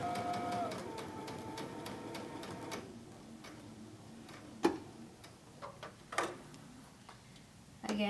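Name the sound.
sewing machine stitching a row of shirring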